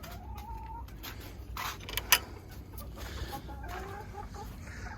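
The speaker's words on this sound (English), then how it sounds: "Someone's a happy chicken." A Polish Bantam chicken clucks softly in a Minnesota winter coop with deep litter, giving several low murmuring clucks against quiet rustling and one sharp click.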